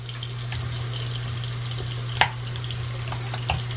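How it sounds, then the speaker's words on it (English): Tap water runs steadily into a sink during handwashing, a continuous close hiss with a couple of brief splashes or clunks and a low electrical hum beneath, no talking. "Here, wash your hands."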